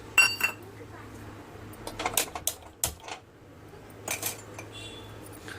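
A kadai set down on a stovetop, giving a few sharp metallic clanks and clinks at close range over a low steady hum, with short gaps of quiet between the knocks.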